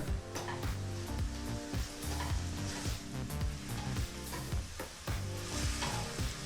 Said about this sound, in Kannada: ಈ ಸಮಯದಲ್ಲಿ ಒಂದು ಟೀ ಸ್ಪೂನಷ್ಟು ಗರಂ ಮಸಾಲನ ಹಾಕಿ ಜೊತೆಗೆ ಒಂದು ಟೀ ಸ್ಪೂನಷ್ಟು ಪೆಪ್ಪರ್ ಪೌಡ್ರನ್ನು ಸಹ ಹಾಕಿ ಒಂದೆರಡು ನಿಮಿಷಗಳ ಕಾಲ ಫ್ರೈ ಮಾಡ್ಕೋಬೇಕಾಗತ್ತೆ